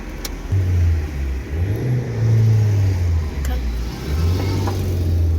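A Geely Emgrand car's engine, fitted with a new timing chain kit after an RPM fluctuation fault, runs steadily with rising and falling revs on a test drive, loud and close, while people talk over it.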